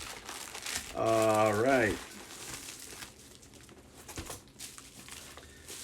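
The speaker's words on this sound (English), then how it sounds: "get this box open. The seller did a good job with, taping it up" Taped-up cardboard package being pried open, with close crinkling and crumpling of tape and packing material in irregular bursts, and a short spoken remark partway through.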